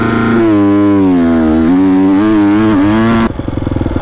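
Triumph TF250-X motorcycle doing a launch control start: a loud, close engine holds a high droning rev that wavers and climbs before cutting abruptly into a rougher, lower, pulsing engine note near the end.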